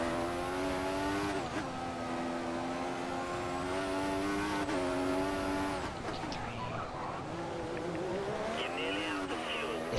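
Race car engine in the F1 2014 video game during a flying qualifying lap in Australia, a loud, high, whining roar held at speed, dipping briefly with quick gear shifts and rising again, with no voices.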